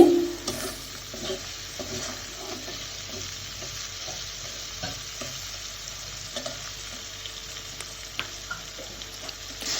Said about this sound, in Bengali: এখন চিংড়ি মাছটাও কিন্তু আমি মশলার সঙ্গে ভালো করে একটু কষিয়ে নিব